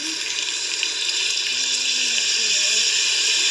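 A continuous wet rushing and sizzling as canned diced tomatoes with their juice pour into a hot pot, with a faint voice underneath.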